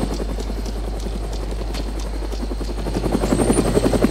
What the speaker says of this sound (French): C'est possible qu'il y avait 2 hélicoptères dans cette toute petite zone, sérieusement?